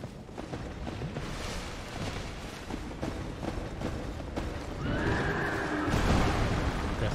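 Horse in Dark Souls II: Scholar of the First Sin neighing loudly in a long whinny near the end, preceded by rumbling thuds and combat noise.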